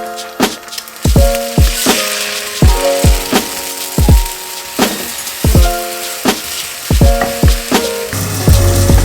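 Pork chipolatas cooking in a pan at breakfast, with bursts of sizzling and hissing alongside repeated sharp clacks and knocks against the pan, loud and close with an irregular rhythm.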